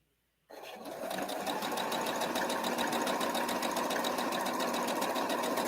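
Sewing machine stitching a quilt, starting abruptly after a brief silence and then running as a steady, fast, close mechanical whir with rapid even needle clatter.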